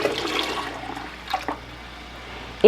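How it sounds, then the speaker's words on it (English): Water poured from canning jars back into a water bath canner pot, a splashing, gushing pour that builds and fades over a couple of seconds with no talk. "When I remove my jars from the canner, I just dump the water back in"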